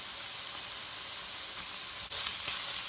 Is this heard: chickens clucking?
no